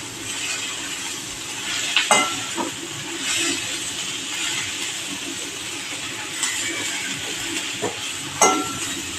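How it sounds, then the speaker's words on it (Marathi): Red amaranth greens being stir-fried in a pan give a steady hissing sizzle, broken by a few close clinks and scrapes of the spatula. "आपण ही भाजी परतूया"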